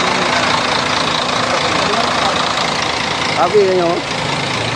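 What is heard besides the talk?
bus engine idling, PT Putra Pelangi bus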